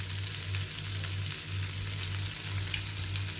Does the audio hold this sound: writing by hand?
no